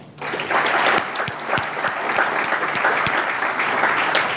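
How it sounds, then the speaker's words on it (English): An audience at a NetHope 2017 gathering applauds Randy, a Cisco Foundation board member, with sustained dense clapping that rises quickly and holds steady and loud throughout. "So a big round of applause for Randy."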